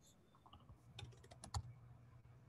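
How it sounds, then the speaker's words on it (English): Quiet typing on a computer keyboard, a short scattered burst of soft key clicks with one heavier tap, close by in a calm room. "I want to try typing that one in and see if it fits."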